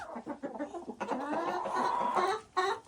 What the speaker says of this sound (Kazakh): Мінекей бүгін сіздерге Адлер 5 тауығымен бір әтеші келіп жатыр